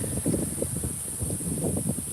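Wind gusting outdoors against an open microphone, a low, uneven rumble that swells and drops throughout, with a faint steady hiss above it and no speech.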